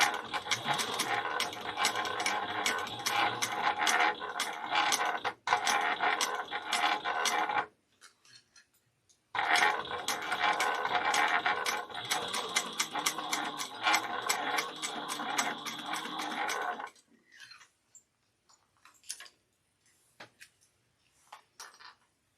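Sewing machine chain stitching and back stitching a bag, two bursts of rapid rattling needle strokes separated by a short pause, then sparse clicks as it stops, close and clear.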